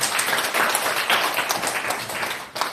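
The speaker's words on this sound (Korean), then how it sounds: "우리 이분께도 큰 박수를 한번 좀 보내주십시오" Audience at a Korean taekwondo cooperation agreement ceremony breaks into sustained applause, a dense wash of many hands clapping that swells and tapers over a few seconds.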